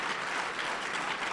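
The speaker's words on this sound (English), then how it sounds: "thank you, whoever you are who applauded" A small audience applauds steadily at a lecture, a dense, even patter of clapping hands that holds at moderate volume without voices.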